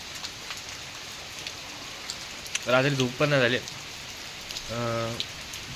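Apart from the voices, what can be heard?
rain falling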